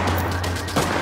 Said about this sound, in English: Sound effects are excellent, from footsteps to gunfire to explosions and everything in between.